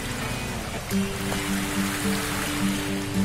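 A small river flowing over rocks near a waterfall on an off-road trail, a close, steady rushing trickle with a faint tonal hum beneath it, no talk.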